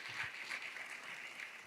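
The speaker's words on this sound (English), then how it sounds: "please give Mark another round of applause" An audience at a transportation summit keynote claps in a steady, moderate round of applause, somewhat distant and even throughout, with no voices over it.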